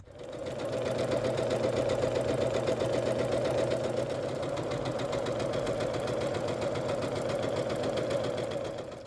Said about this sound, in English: Sew those together